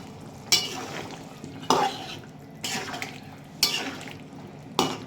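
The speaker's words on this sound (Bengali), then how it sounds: "তো আমি এখন আলু দিয়ে দিচ্ছি।" Potatoes go into a pot of simmering goat meat curry, with five distinct clattering bursts of spoon and pot contact spaced about a second apart over a low sizzling background.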